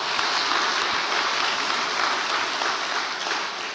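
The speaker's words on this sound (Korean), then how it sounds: "우리 모두를 위해서 같이 박수하겠습니다." A church congregation at a Sunday worship service applauds the pastor coming forward to preach, a dense, steady wash of clapping that fills the hall evenly and fades slightly at the end.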